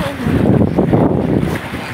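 Rough sea during a boat trip in bad weather: wind buffets and waves rush steadily against a passenger boat, loud and close, with a continuous broadband roar and no talk.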